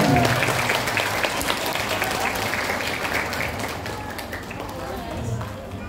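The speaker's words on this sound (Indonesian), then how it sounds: "Tepuk tangan." Dense, sustained applause from a crowd at a charity talk show fills the room as guests are welcomed, continuous and fairly loud, gradually easing off toward the end.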